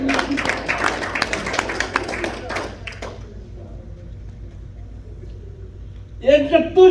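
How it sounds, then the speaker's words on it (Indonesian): An audience at a pastor's sermon gathering applauds in a brisk, close burst of clapping for about three seconds, which then drops into near silence before a voice starts speaking. "Tepuk tangan dulu."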